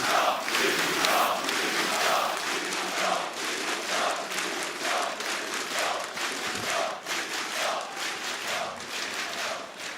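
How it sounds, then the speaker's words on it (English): Large esports arena crowd at ESL One Katowice 2015, a CS:GO quarterfinal between Keyd Stars and Virtus.pro on Mirage, cheering and roaring loudly and continuously, with rhythmic chant-like pulses throughout. "Incredible stuff there from the crowd"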